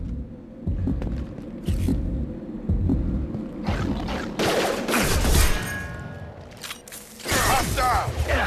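Gunfire and explosions rumble through a Mass Effect 2 firefight, with dense bursts of weapon fire, heavy low booms and mechanical noise, and in-game voices shouting over the combat.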